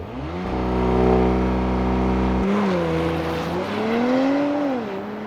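A 2020 Porsche Macan S SUV roars hard as it launches with launch control, the steady revving tone jumping and climbing through the gears, loud and close with no talking.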